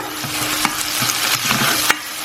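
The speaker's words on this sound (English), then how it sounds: "Once your butter is melted, in goes the garlic." Generous big chunks of garlic fry in melted butter in a pan, a loud, close, crackling sizzle with repeated stirring clicks and scrapes throughout.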